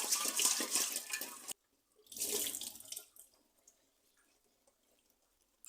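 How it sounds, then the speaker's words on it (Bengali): A tea kettle is rinsed under a running kitchen tap, with two bursts of gushing, splashing water separated by a short pause, then a quiet stretch of faint drips and handling. "চায়ের কেটলি ভালো করে ধুচ্ছি।"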